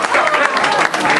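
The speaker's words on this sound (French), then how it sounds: "nous pouvons applaudir bien fort" An audience applauds at a first-aid lesson event, a dense, steady wash of clapping filling the short moment at close range, with crowd murmur mixed in.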